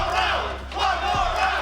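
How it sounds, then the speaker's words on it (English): Esports crowd at a Street Fighter 6 top eight tournament roaring and cheering in loud swelling waves, close and dense, with a commentator's voice faintly underneath. "Crowd definitely behind Sayff right now"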